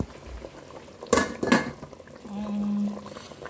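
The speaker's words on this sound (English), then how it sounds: "And that is my plantains right there. I'm parboiling it." Plantains cook in a pot of boiling water for Cameroon goat meat pepper soup: two sharp metallic pot clanks up close, then a steady bubbling simmer with a faint hum.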